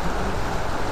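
Rain falls outdoors during a neighborhood 17 August Independence Day contest, making a steady, dense hiss with no breaks.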